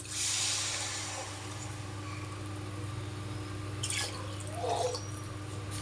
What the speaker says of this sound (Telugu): 1 గ్లాస్, 2 గ్లాసులు వాటర్ యాడ్ చేస్తున్నాను